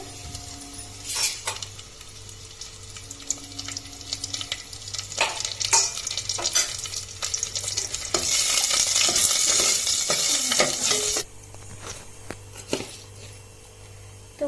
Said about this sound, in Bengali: এবারে এই যে কাজু কিশমিশগুলো ভেজে নেবে একটু ভেজে নিই লাল লাল করে